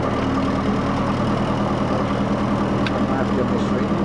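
A 1984 Morane aircraft engine runs at a steady, loud, rumbling idle near the microphone, a continuous even drone with no voices heard.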